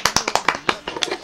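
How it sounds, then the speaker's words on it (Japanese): Brief scattered hand claps from a small group, irregular and close, lasting just over a second. "なんで拍手で"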